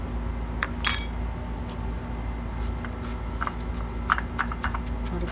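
Garlic and seasonings being pounded in a garlic crusher in a home kitchen: a series of irregular sharp clinks and knocks over a low background hum.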